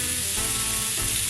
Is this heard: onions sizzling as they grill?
yes